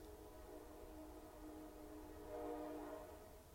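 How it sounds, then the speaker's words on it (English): Train horn blowing continuously as one long sustained blast, steady tonal and fairly distant, swelling slightly louder toward the end with no break. "That was like 6 seconds of fucking horn without stopping."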